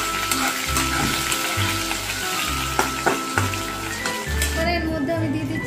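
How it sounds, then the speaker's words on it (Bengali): Boiled, cut potatoes frying in a pan for an egg omelette curry, a steady close sizzle with a few stirring scrapes and a low background hum throughout. "আলুটা দিয়ে ভালোভাবে ফ্রাই করে নেব।"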